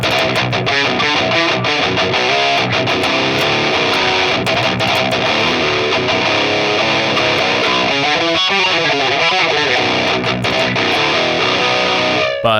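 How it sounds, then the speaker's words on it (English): Heavily distorted modern metal electric guitar tone from the Bias FX 2 amp simulator, playing dense, loud chugging riffs, continuous and alone with no voices. "that's how to get a modern metal sound guitar tone in Bias FX2"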